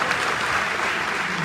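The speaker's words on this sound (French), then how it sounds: "Applaudissez son excellence, s'il vous plaît." A steady burst of clapping from an audience at a Paris comedy show, dense and continuous throughout, fairly close and loud.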